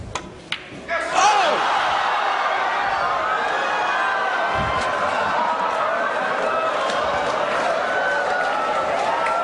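Crowd in a pool hall during a professional match between Ralf Souquet and Ronato Alcano, rising into a sustained roar and cheer after early clacks of balls, continuing loudly for several seconds.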